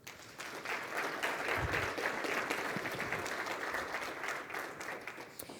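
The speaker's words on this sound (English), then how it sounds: "She deserves your applause." Audience applause fills the room at a city's State of the City address in Livonia, a steady, dense clapping that holds at full strength throughout without speech.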